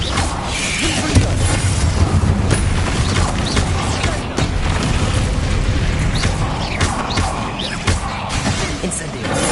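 Repeated blasting-curse explosions and crashing impacts from spell combat in Hogwarts Legacy, a dense, loud, continuous barrage of booms and whooshes with no pauses.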